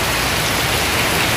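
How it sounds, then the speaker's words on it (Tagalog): Heavy rain pours down in a loud, dense, unbroken roar of water hitting surfaces, a steady wash of noise with no voices. "Lakas ng ulan, grabe."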